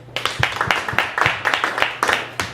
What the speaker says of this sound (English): Who here, by a round of applause, has seen Shakespeare After Dark before?